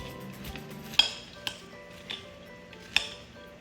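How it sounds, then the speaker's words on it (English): Utensil clinks and scrapes against a bowl while ingredients for fried fish, including Maggi seasoning, are mixed by hand; a few sharp taps stand out over a soft, steady background of stirring. "I'm mixing everything up"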